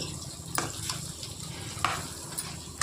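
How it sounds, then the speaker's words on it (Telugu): Chicken being stirred into butter chicken gravy in a pan, a low steady sizzle with a few sharp scrapes and clinks of the spoon against the pan, close and alone. "ఇప్పుడు చికెన్ యాడ్ చేసుకున్నాక దీన్ని కూడా మంచిగా బాగా కలిపి"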